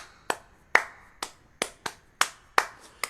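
Sharp percussive hand claps in an irregular rhythmic pattern, about eight crisp hits in three seconds, close and clear with no talking.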